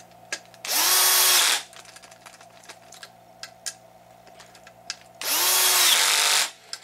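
A power drill tightens screws on the rear hinge pin brace of an HPI Baja SS model, giving two close whirring bursts of about a second each. Light clicks of handling come in between.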